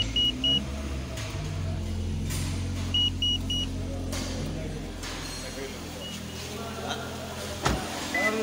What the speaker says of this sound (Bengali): এখন ইঞ্জিনে চলে গেছে গাড়িটা